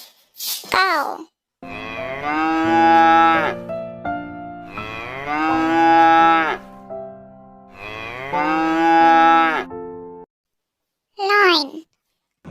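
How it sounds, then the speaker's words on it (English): Three long, loud cattle moos with rich harmonic tone, each lasting about two seconds, separated by pauses; a voice speaks briefly before the first moo and after the last. "Cow."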